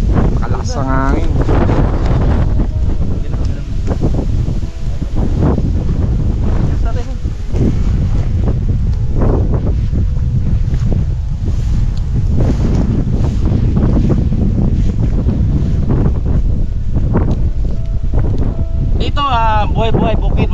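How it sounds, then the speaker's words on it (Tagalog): Strong wind sweeps across a mountain farm, buffeting the microphone in a loud, constant roar for the whole stretch, with voices speaking now and then underneath. "Kalakas ang hangin."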